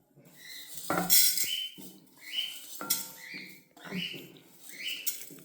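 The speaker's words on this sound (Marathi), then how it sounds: "चला आता हे सगळं साहित्य आपण भाजून घेऊया" Ingredients for fresh turmeric pickle, including salt, are dry-roasted in a pan. A utensil stirs them in several bursts, giving close scraping and clattering with short pauses between strokes.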